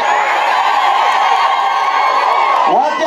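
Dense crowd cheering and whooping at a political rally for Kenya's deputy president in Kisii, a loud continuous roar of many voices with shouts rising throughout.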